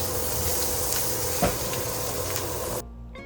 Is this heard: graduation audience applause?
no